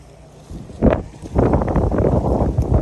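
Gusts of wind buffet a microphone outdoors at a car and coffee event, rising into rough, loud rumbling bursts that swell and stay heavy toward the end, with no clear speech.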